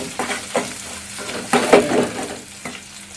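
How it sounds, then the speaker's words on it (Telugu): Broad beans with dal and onion fry in a pan over a low flame, giving a steady sizzle broken by several scraping stirs of a spatula. "బాగా ఫ్రై చేయండి. స్టవ్ సిమ్లో పెట్టుకోవాలి."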